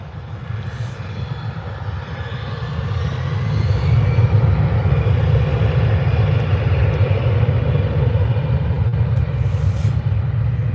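An easyJet airliner at Birmingham airport, bound for Londonderry, roars with a steady jet engine rumble that swells louder midway and holds, fairly close, with no talk over it.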